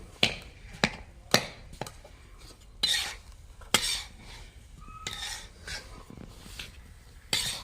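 Khoya and semolina being mixed and broken up in a kadhai for pinni, with a spoon scraping and clinking against the pan in irregular taps and scrapes, close and moderately loud, no talking.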